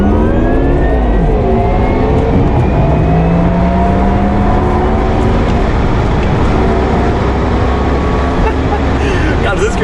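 Porsche Taycan 4S electric car accelerating hard, its rising and falling electric motor and regeneration whine layered in tonal sweeps over steady road and wind roar, loud and continuous throughout.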